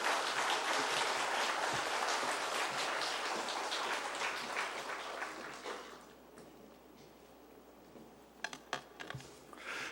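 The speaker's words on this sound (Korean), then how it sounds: "박수 한번 크게 한번 하겠습니다" A congregation at a Full Gospel church prayer service in Chuncheon applauds, a dense fairly distant patter of many hands that fades over several seconds, followed by a few scattered claps.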